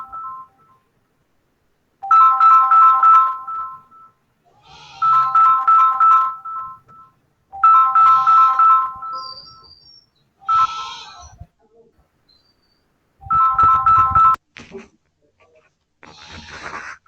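A phone ringtone goes off during a lecture on forams in oil exploration, sounding in about five loud, evenly spaced melodic bursts with short gaps between them. The rings stand out clearly with little other sound around them.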